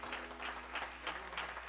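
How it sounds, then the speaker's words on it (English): Applause from a church congregation, a short burst of many hands clapping together at a moderate, fairly distant level. "Let's give them a round of applause."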